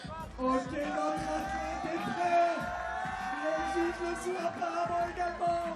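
Crowd cheering at a men's parkour freestyle final in Montpellier, with an MC shouting over the stadium sound system; whoops and cheers swell and fade under the amplified voice.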